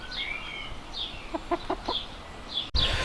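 Chickens clucking in a back garden, a few short clucks and higher calls spread across the moment, moderately close, with a sudden knock near the end.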